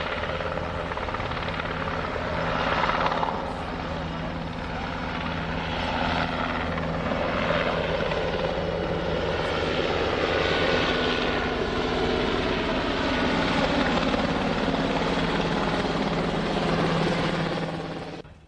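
Helicopters fly over a forest fire near Storm King by the Hudson River, carrying river water to drop on the blaze. Their rotors and engines make a loud, continuous, steady drone that stays close throughout.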